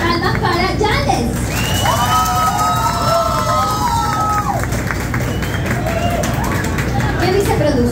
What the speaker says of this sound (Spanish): Palmas para Janles.